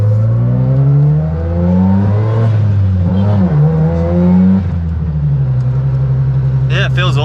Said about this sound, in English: Those turbos come on super hard.